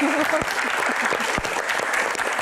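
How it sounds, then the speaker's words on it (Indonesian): Applause from an audience at an indoor Q&A event, a dense sustained patter of many clapping hands at moderate loudness, with voices faintly mixed in at the start. "tepuk tangan dong"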